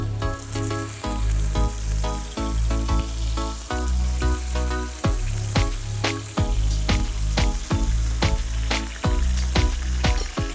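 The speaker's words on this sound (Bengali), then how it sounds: "এখন আমি স্কিয়ারগুলা, যেটা নাকি আমি সুবলাকির জন্য রেডি করেছি। এই তেলের মধ্যে জাস্ট ছেড়ে দিব।" Chicken souvlaki skewers frying in hot oil on medium-high heat, a steady crackling sizzle punctuated by sharp utensil knocks and clicks.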